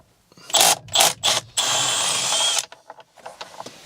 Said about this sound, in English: Now we can remove this center bolt. Should be a 16mm, I believe.